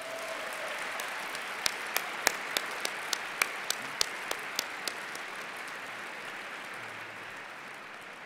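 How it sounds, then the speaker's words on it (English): A commencement crowd applauds the faculty with steady, dense clapping filling the whole stretch, with a few sharper individual claps standing out near the start. "Students, could I get a round of applause for the faculty?"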